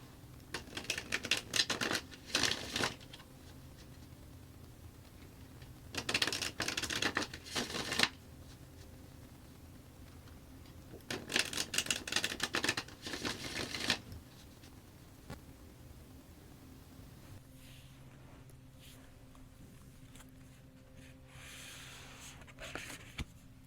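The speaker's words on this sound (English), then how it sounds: "Next, I'm going to pull some oracle cards." Oracle cards are handled and shuffled close up in three separate bursts of crisp riffling and flicking, with quiet pauses between them and faint light tapping near the end.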